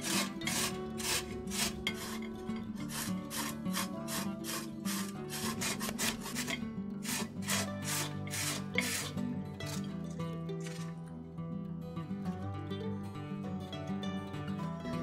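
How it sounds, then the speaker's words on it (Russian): Rhythmic rasping strokes as a carrot is grated on a coarse grater, rapid and regular at first, then a steadier scraping continues close by. "Затем натираю морковь на крупной терке."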